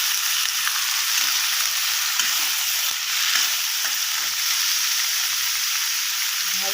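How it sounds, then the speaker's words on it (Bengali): Small chopped potato pieces fry in hot oil with a loud, constant, close-up sizzling hiss that never lets up, broken only by faint occasional stirring clicks. "এখন আমি এই যে ছোট ছোট করে আলুগুলো কেটে রেখেছিলাম, এটা আমি এখানটা ভেজে নেব তেলের মধ্যে লাল করে।"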